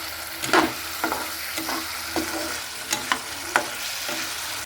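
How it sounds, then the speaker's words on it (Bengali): Potatoes are stirred in spiced oil for a bhetki fish curry, with a steady sizzle under about eight rhythmic scraping strokes of a spoon against the pan, close and clear. "এই যে আলু দিচ্ছি। হ্যাঁ, একটু নেড়ে নিচ্ছি, ভাজা হবে একটু আর একটু।"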